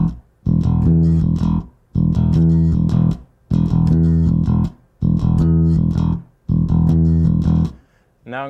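A bass guitar plays a repeating rhythm with an added octave note on one of the notes, five loud, even phrases separated by short gaps, with no talking over it.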